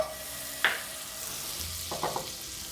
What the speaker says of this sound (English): Melt that butter down.